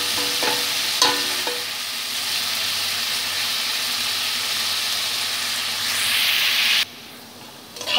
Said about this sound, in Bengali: আলুগুলোকে আমি নেড়ে ফেড়ে ভেজে নেব খুব ভালো করে।